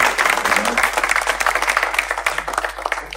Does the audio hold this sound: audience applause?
yes